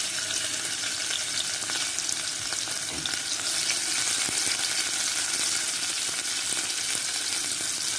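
Chopped onion goes into a hot pan of browned garlic for a dish of dried shrimp and Malabar spinach. A steady, hissing sizzle continues throughout, with a soft thud about three seconds in as the onion drops in.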